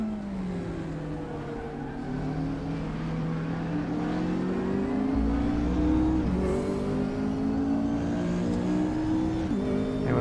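KTM race car engines in the RaceRoom racing game whine and rev steadily, climbing through the gears with a shift near the midpoint. A rival car's engine sits close behind.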